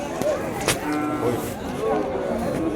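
Older native-breed cattle low repeatedly at the Vaniyambadi cattle market, drawn-out moos rising over a busy crowd murmur, with faint voices nearby.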